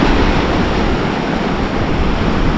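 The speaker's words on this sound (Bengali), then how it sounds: "এখানে শুধু আছে হচ্ছে সমুদ্র ঢেউ আর বাতাস" Sea waves and wind on the beach at Cox's Bazar, a loud, dense, continuous roar of surf with wind rushing across the microphone and no voices.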